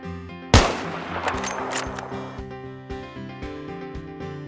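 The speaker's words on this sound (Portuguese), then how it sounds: "Headshot em Wake Island, ele tava no cargueiro e acertou o cara na ilha." A long-range sniper shot rings out in Battlefield on Wake Island, one sharp loud report followed by a decaying echo while steady game music plays underneath.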